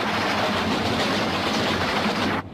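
A remote-controlled cartoon train runs with a loud, continuous rumbling roar and faint clatter, close and steady, cutting off abruptly at the end.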